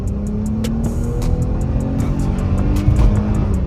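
A V6 Chevrolet Camaro with a muffler delete sends out a loud, steady, low engine rumble that holds a constant drone for several seconds, with no voices over it.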